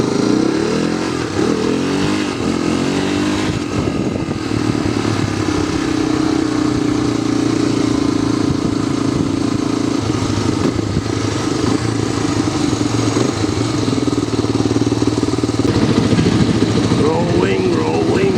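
A 1986 Honda 350X motorcycle, fitted with a new starter, battery and gauges, pulls away slowly in first gear as the clutch is let out, its engine chugging and revving steadily throughout with some clatter.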